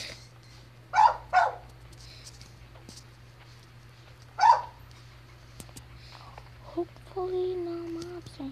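Dogs in a neighbouring house bark in short separate bursts, two quick barks then one more a few seconds later, muffled and moderately distant, with a person speaking softly afterwards over a low steady hum.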